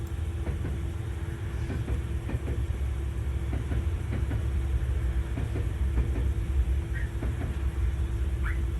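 Train noise at Nishi-Toyama station as a limited express Hida passes, a steady rumble with repeated clicking wheel beats over the rails, fairly close and continuous.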